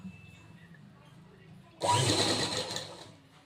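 After a quiet start, a sewing machine kicks in midway to stitch blouse pieces, a close, fast, whirring run of stitches that eases off toward the end.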